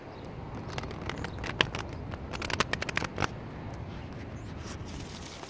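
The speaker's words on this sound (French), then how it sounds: "Allez, une dernière carte de l'Odyssée intérieure de Nasrin Reza." Oracle cards are shuffled by hand, a rapid crackling riffle of snapping card edges with a dense flurry of sharp clicks in the middle, close and alone without speech.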